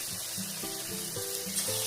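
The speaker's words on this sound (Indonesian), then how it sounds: "Setelah minyak panas, goreng adonan tahu." Tofu batter frying in hot oil over medium heat gives a steady, close hiss of sizzling that runs the whole time beneath background music.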